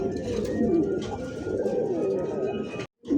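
A bright red Pakistani Danish pigeon coos in a steady, close, throaty warble that rolls on continuously before a brief silence at the end.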